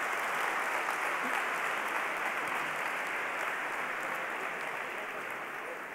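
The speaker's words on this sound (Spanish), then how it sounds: "vamos a darle un fuerte aplauso de ánimo" A live audience at a European policy event claps steadily for six seconds, a dense, even wash of applause that fades slightly toward the end, with no voices over it.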